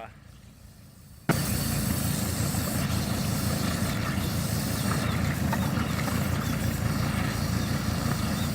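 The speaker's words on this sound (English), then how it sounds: "it's hiccuping and burping, and that's how you clean out the soot out of your exhaust" The exhaust of a 1984 Mercedes W126 diesel is flushed with water. After a short quiet start the engine suddenly rumbles up into a steady, sputtering, loud exhaust drone that continues to the end.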